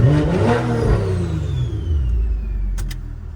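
A tuned BMW X3 M40 engine revs hard up close, its roar rising and then settling into a deep, rumbling drone as the SUV pulls away.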